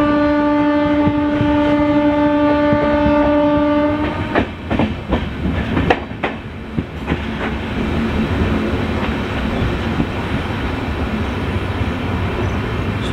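A train runs through Laxmibai Nagar station in the early morning; a long steady horn blares first, then loud rattling clatter of the wagons and clicks over rail joints continue up close.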